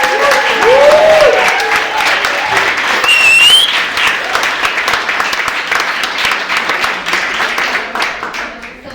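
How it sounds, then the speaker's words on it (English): Audience at a Nairobi meetup gives a hearty round of applause, loud sustained clapping with a few whoops and cheers, gradually tapering off. "So another hearty round of applause,"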